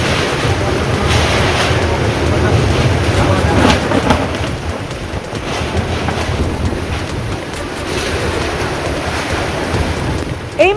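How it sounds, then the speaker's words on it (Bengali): Strong stormy wind with rain during a thunderstorm in the Bardhaman and Hooghly districts makes a loud, steady roaring rush with gusty swells and buffeting against the microphone. "ঝড় বৃষ্টি প্রবল বেগে হাওয়া"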